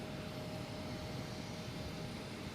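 Airliners at Boston Logan International Airport give off a steady, distant jet roar that holds evenly throughout, with a faint tonal whine above it and no talk.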